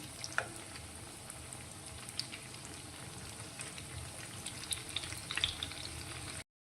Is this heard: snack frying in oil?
yes